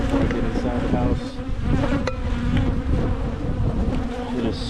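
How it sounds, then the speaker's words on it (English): Bees buzzing close around freshly cut burr comb from a cotton-honey hive: a dense, continuous droning hum with no talk. "In little chunks like this here, there might be some bees in it."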